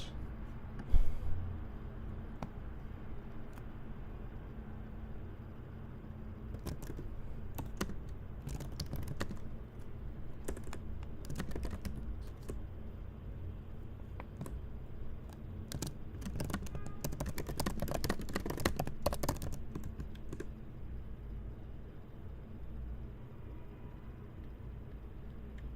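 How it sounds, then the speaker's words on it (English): Steady clicking of a computer keyboard being typed on, moderately close, with irregular bursts of keystrokes continuing throughout and no talking. "before I start, I'm gonna type in the chat."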